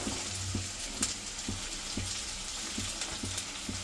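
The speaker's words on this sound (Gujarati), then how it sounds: "ગેસ થોડોક મીડિયમ ફ્લેમ કરી નાખી અને એમાં હવે આપણે બટેકા એડ કરી દઈ" Potatoes and onions frying over a medium flame in a pan for mamra khichdi, a continuous close sizzle with faint periodic thumps from stirring.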